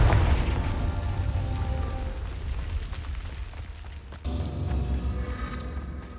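Confringo fire-blast spell detonating in the Hogwarts Legacy game, a heavy rumbling boom with crackling debris and a steady low roar that dips, then swells again, no talking.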